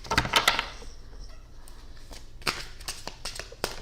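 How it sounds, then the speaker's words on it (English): Crisp, rapid riffling of a tarot deck shuffled hard, with bursts of card snaps at the start and scattered flicks later, close and clear with no talk. "Y'all hear me shuffling these cards hard?"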